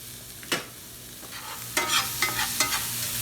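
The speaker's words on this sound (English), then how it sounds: "And stir it around." Sausage and vegetable pasta stirred in a hot pan, with a spoon scraping and clattering in a few sharp strokes over a soft sizzle, no talking.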